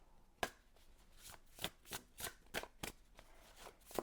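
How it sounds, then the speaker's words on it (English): Tarot cards are shuffled by hand in close, quiet, crisp riffling bursts, a series of sharp papery snaps spaced irregularly with no talk. "while I shuffle this card"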